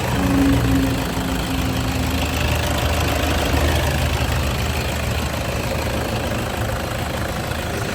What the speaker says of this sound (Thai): เครื่องนิ่ง ๆไม่สั่นนะครับเครื่องเดินเงียบ